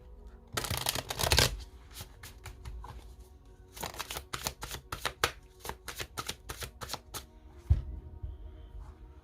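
Tarot cards shuffled by hand, a dense riffling burst followed by a run of quick crisp slaps and flicks as the deck is worked, close and clear with no talking.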